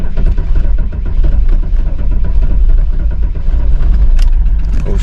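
A BMW E46 330D diesel runs loud and close after an engine swap, a steady low rumbling idle with a rough mechanical clatter throughout, no speech.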